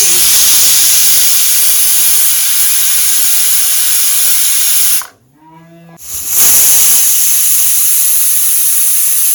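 A pressure cooker cooking khichuri with sweet pumpkin loudly releases steam, a steady harsh hiss that cuts out for about a second midway and then returns at full strength.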